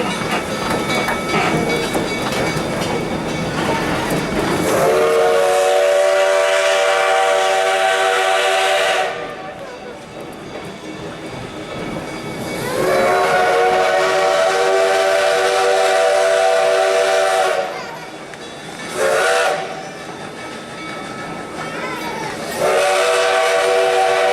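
A Black Hills Central Railroad steam locomotive rolls along with its loud chime whistle sounding in long blasts, several extended calls separated by short gaps and one brief toot, over the steady rumble of the train.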